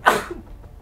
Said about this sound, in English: Sorry about that, rogue sneeze